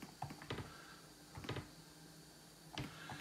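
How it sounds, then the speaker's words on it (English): Keys being pressed on a ZX Spectrum Next keyboard, a few separate clicks spaced out over a few seconds, close and fairly quiet with no talking. "Have to hit it kind of dead centre on the key, else it doesn't work."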